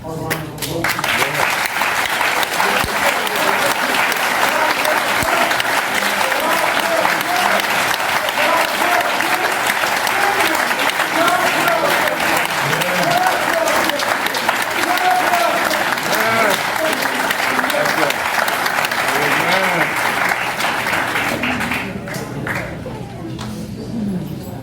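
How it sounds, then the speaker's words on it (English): Sustained applause from an audience at an event honoring Edisto Island cook Emily Meggett, dense and steady for about twenty seconds before thinning out near the end. "Can we please give a round of applause?"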